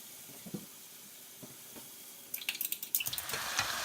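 Rice with fish sauce and sriracha in a pan as the wine cooks off for Thai fried rice with prawns: quiet soft clinks at first, then a sizzle that builds into a strong, continuous crackling hiss with stirring scrapes.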